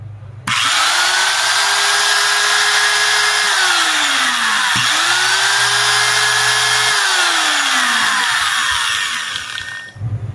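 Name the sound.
repaired angle grinder switched on and running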